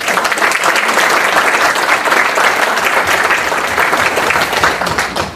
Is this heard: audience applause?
yes